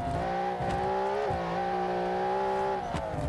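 Racing car engine in BeamNG.drive revs steadily and whines through gear shifts, with brief dips in pitch at each change, loud and continuous.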